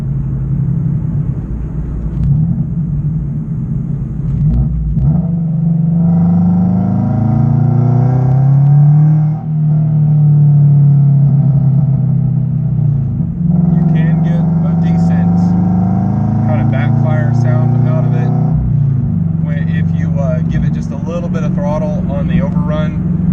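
A Scion FR-S engine with a full catless SpecD exhaust rumbles deep and throaty, rising and falling as it revs through gears, loud and close throughout with a raspy, backfiring edge.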